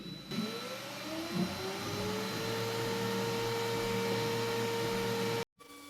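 An xTool M1 Ultra laser engraver engraving an image at 15% power and 124 mm/s gives a steady, close whirring drone with a thin tonal hum. It runs unbroken for about five seconds, then cuts off abruptly.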